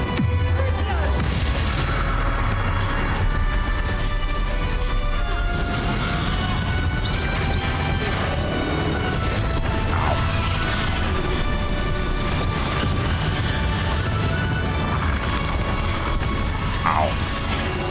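Spell-casting combat in Hogwarts Legacy: a steady, dense wash of magical blasts, booms and crashing impacts, loud and unbroken, with overlapping whooshes and bursts.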